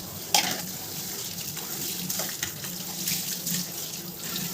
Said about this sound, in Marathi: आता हे स्वच्छ पाण्याने आपल्याला धुवून घ्यायचं आहे